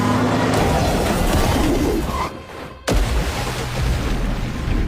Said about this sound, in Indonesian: tiba-tiba mobil mereka dihantam sebuah truk yang melaju kencang